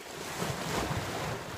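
Sea waves wash against a rocky shore in a steady, broad hiss and rumble, with wind buffeting the microphone and no voices.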